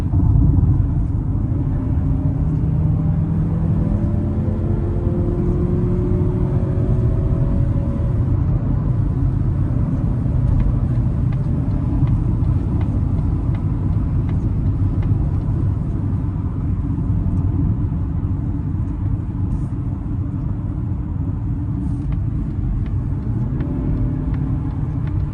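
A 2025 Mazda CX-50 Premium in sport mode gives a steady, loud low engine and road rumble from inside the cabin, with faint rising engine tones, constant throughout and without talk.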